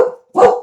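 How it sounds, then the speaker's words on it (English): A dog gives one loud, close, sharp bark, following a brief trailing sound of an earlier bark, indoors with no talk. "that's my dog."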